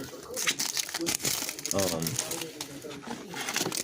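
Wax packs of 1992 All World NFL football cards are ripped open up close, with loud irregular crinkling and tearing of wax paper, mixed with brief murmured speech partway through.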